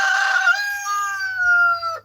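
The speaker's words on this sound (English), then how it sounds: "There's chickens all around us." A rooster crows nearby, with several chickens around, one drawn-out call lasting about two seconds, loud and alone with no talk.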